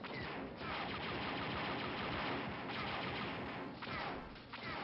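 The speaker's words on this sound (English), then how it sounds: "It's shooting me." An enemy droid fires on the player in the Dark Forces video game, a dense continuous barrage of blaster shots and crashes with a few brief gaps, loud and up close.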